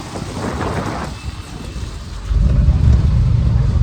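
Rain and thunder during a trip to Tirupati, with a steady hiss of falling rain and a deep rumble that swells louder near the end and holds there. No one speaks.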